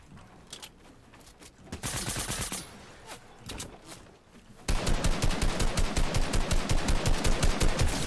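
An AK rifle in a video game fires in scattered shots and short bursts, then breaks into a loud, steady stream of automatic fire with evenly spaced cracks.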